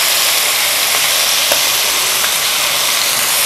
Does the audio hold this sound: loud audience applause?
no